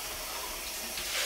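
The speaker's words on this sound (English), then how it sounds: "organic coconut oil, and we're going to pour a whole bunch in here" Organic coconut oil poured into a pan while cooking sloppy joes, a soft steady liquid trickle and hiss lasting about a second, quiet and close with no talking.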